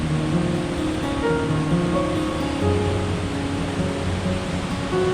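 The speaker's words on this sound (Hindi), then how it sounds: "क्रॉस करना है, बहुत पानी आ रहा है।" A mountain stream rushes loudly along the trail to Hemkund Sahib in the Himalayas, where hikers have to cross it. The water roars as a dense, steady noise that fills the clip without a break, and no one speaks.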